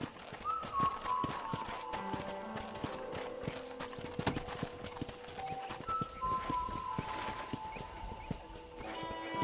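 Horse hooves clip-clopping at a walk in Red Dead Redemption, steady near hoofbeats with occasional birdsong and faint ambient tones in the background.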